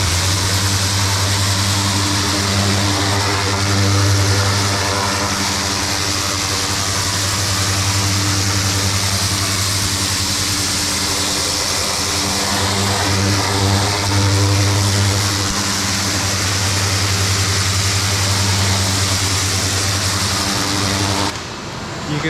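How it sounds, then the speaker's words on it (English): A powerful pressure washer runs steadily with a loud, continuous motor drone, its jet scrubbing a car tire up close for over twenty seconds before cutting off at the end. "you really need a big, powerful pressure washer to run this kind of tip"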